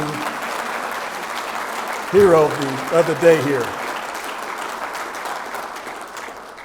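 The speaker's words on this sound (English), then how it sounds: "So how about a round of applause for the unseen" Warm applause from guests at a Colin L. Powell lecture series dinner rolls on steadily while someone briefly speaks over it at a microphone, then the clapping continues on its own and slowly tapers.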